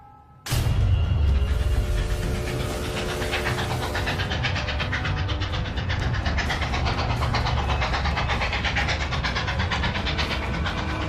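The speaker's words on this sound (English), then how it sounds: "A packed train speeds on its way south" A packed steam-era train carrying troops and supplies speeds along the railway, a loud steady rumbling roar with rhythmic clatter that starts abruptly and carries on unbroken, close by.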